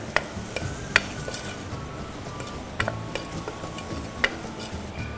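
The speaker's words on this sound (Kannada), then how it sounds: "ಚೆನ್ನಾಗಿ ಹುರ್ಕೊಳ್ಳಿ ಇದನ್ನು" Egg biryani masala with salt frying in a pan, a steady close sizzle punctuated by sharp metallic clinks of a spoon stirring against the pan at irregular intervals.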